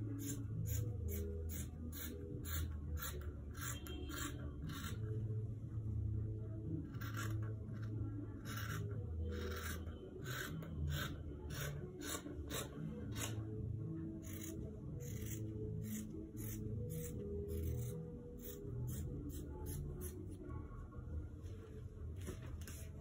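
Scissors cutting fabric pieces for a bubu gown, a close run of rhythmic crisp snips and soft scraping strokes continuing steadily through the whole stretch.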